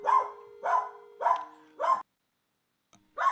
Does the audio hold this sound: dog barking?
yes